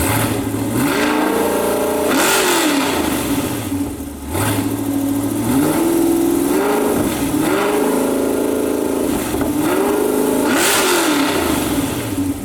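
A C8 Corvette fitted with an AW Touring exhaust revs hard on a dyno, loud and close, the engine climbing and falling in repeated sweeping pulls with a brief dip between runs.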